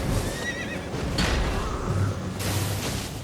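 A horse in the Elden Ring video game neighs with a shrill whinny, heard alone and fairly loud, followed by clopping hooves and a brief thump over game ambience.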